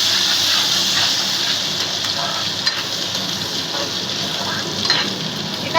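Ginger paste and chopped green chili frying in hot oil for a vegetarian ghugni, giving a steady, close sizzle with faint stirring scrapes throughout.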